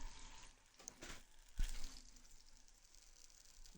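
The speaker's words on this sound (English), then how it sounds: "Chicken. Ooh. Sizzling." Faint, steady sizzling and crackling of chicken frying in a hot pan with garlic oil, with a soft clink partway through; quiet and continuous.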